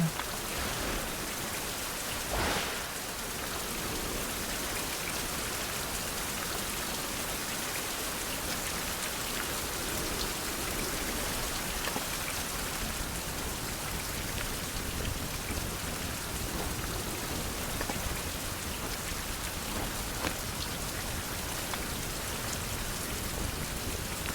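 Steady rain pours down in a dense, unbroken hiss, with drops pattering on surfaces throughout, constant and fairly close with no voices.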